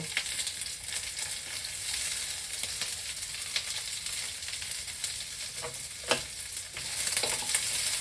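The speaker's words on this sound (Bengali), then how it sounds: "যতক্ষণ না কাঁচা গন্ধটা যায় ততক্ষণ রসুনগুলো একটু ভাজা করতে হবে" Garlic fries in hot oil in a pan while a spatula stirs it, giving a steady close sizzle marked by scraping strokes and an occasional sharper clack against the metal.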